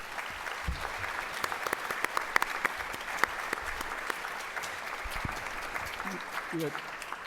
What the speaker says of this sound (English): if you can join me in giving him another warm round of applause